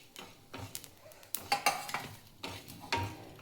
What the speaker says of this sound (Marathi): जास्त वेळ नाही भाजायचे धने. धने लगेच भाजतात.